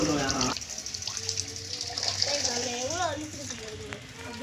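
Steady running water from a tap during washing, a continuous hiss with a voice talking over it throughout.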